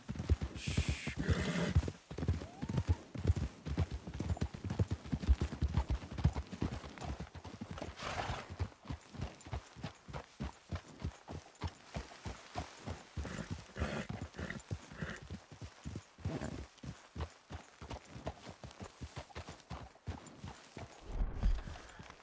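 Horse hooves clip-clop steadily in Red Dead Redemption 2 as horses ride along a trail, a continuous rhythmic beat of close, crisp hoof strikes over a long stretch, with occasional snorting and no talk.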